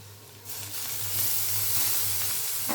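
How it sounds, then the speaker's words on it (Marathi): Red poha, soaked and drained, sizzles as it goes into a hot kadhai, a steady frying hiss rising after a brief quieter start and holding loud and close to the end, with no talking. "हे पोहे आपण कडेमध्ये घालूया"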